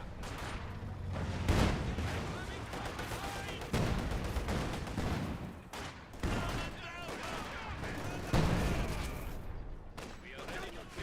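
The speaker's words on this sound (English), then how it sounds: "This gun firing away." Heavy anti-tank gun shots from a Pak 40 in Company of Heroes 2 boom out a few times at intervals over busy battle ambience and a casting voice talking.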